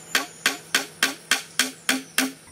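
Nails driven with an axe used as a hammer while building shelves in an RV closet: seven sharp, evenly spaced metallic strikes, close and loud, each ringing briefly with a low resonant tone.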